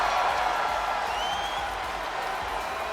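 A video game arena crowd in WWE 2K24 roars and cheers steadily as a wrestler pumps them up, a dense continuous wash of crowd noise with faint whistles rising through it.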